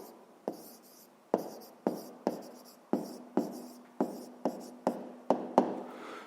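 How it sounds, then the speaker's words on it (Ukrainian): Pen or pencil writing on paper during a 5th-grade maths exercise, heard as a steady series of about a dozen short scratching strokes, each starting with a sharp tap and trailing off, close and clear with no talk. "Пишемо тоді висновок."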